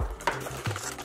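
Whisk stirring egg yolks and milk for pastry cream in a bowl, a couple of soft scraping strokes against the sides, close and quiet.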